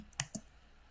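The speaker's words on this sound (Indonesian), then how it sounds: "Coba kita ketikkan dengan perintahnya IP" A couple of sharp keystrokes on a computer keyboard while a router command is typed for OSPF configuration. The two crisp clicks come close together, quiet and close, with nothing else around them.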